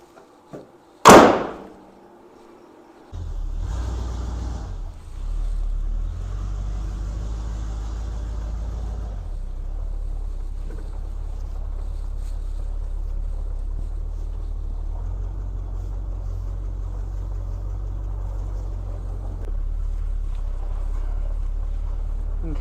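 A car with freshly repaired power steering is started and driven around the block. A sharp thump like a door closing comes first, then a steady low engine drone runs on evenly with faint rattles.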